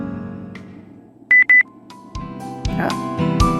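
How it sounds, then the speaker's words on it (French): A text message notification in the My Mystic Dragon video game sounds as two short, bright electronic beeps in quick succession, followed by soft background game music. "Un texto."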